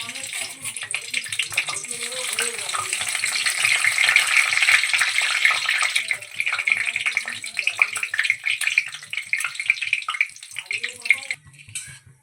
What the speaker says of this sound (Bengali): ঘিটা গরম হয়ে গেছে, এবার ঘিয়ের মধ্যে 2টো তেজপাতা দিয়ে দিচ্ছি।